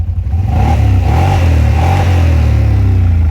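A 2025 Can-Am Outlander XMR 850 ATV engine revs up close and loud, a steady rising drone with a throaty rumble that holds throughout while the engine is still being broken in.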